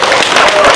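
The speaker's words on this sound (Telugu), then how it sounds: "అందరూ గట్టిగా క్లాప్స్ పెట్టండి" Brief burst of loud, dense applause from an audience at a gold giveaway event in Hyderabad, steady clapping filling the whole moment with no pauses.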